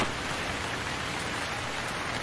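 Steady rain falls outdoors during a motorbike ride, a continuous dense hiss that stays even and fairly loud throughout, with no voices.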